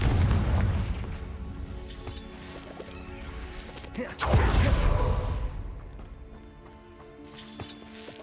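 The Confringo fire spell explodes in Hogwarts Legacy with two deep, rumbling booms, one at the start and one midway, each fading into a low roar over game sounds.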